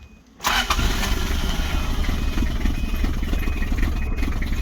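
A Toyota engine cranks briefly, then catches and settles into a loud, steady rumbling run with a slightly uneven, misfiring beat, close by and with no talk over it.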